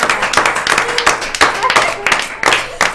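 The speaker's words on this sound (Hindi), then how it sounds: "आप सबके लिए जोरदार तालियां।" Clapping from a studio audience applauding the winner of a timed game round on a women's contest show in Bihar, sharp irregular claps spread across the clip under ongoing talk.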